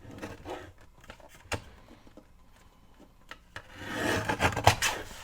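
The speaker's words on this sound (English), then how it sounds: "I'm going to put it back in here and trim it straight since I didn't do a very good job" Scissors or a blade trimming the edge of a manila envelope to straighten it, a soft papery rasp with scattered faint snips that grows louder and busier near the end, close by with no talking.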